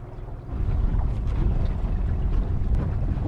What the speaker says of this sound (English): The wind has definitely kicked up.